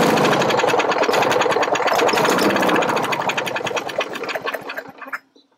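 A neighborhood push lawn mower engine sputters and chugs in rapid firing pulses, loud and close, then loses power and dies out near the end without catching fully.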